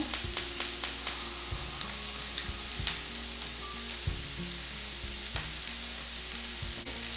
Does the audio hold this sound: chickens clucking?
no